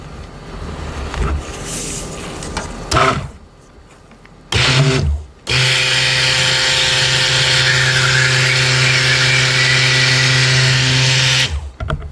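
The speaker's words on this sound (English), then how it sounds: "these oils with my immersion blender." Immersion blender whirring steadily as it mixes soap-making oils for a berry vanilla soap, a loud continuous motor drone lasting several seconds after a couple of short pulses, with no talking.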